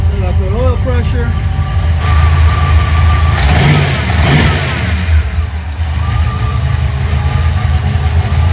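A car engine idles steadily around 1,000 rpm with a low, continuous rumble, close by, with a faint rise in revs partway through.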